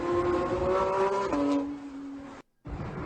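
A fast Tesla accelerating past other cars, its engine-like whine rising steadily and loud, then a brief dropout before the sound resumes.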